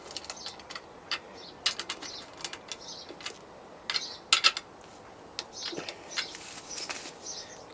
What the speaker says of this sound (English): Pinch them up with a socket.